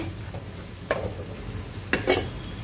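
Vidarbha-style dal and onion sautéed in a pan. A low, steady sizzle runs throughout, broken by a few scraping stirring strokes of a spoon against the pan.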